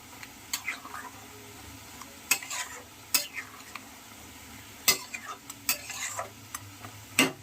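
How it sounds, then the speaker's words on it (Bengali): A spoon scrapes through fish head muri ghonto curry with chilies in a pan, sharp strokes recurring irregularly over a soft simmering sizzle, with faint voices in the background. "এরপর দুটো লঙ্কা দিয়ে দেবো আর মাছের মাথাটা দিয়ে দেবো। ভালো করে নেড়ে ছেড়ে দেবো যাতে তলায় না লেগে যায়।"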